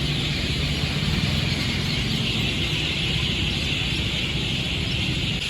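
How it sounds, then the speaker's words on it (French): A dense, constant chorus of many birds calling from one tree at dusk, heard from directly beneath it, a loud unbroken chattering wash with no pauses. "C'est le bruit des oiseaux à la nuit tombée"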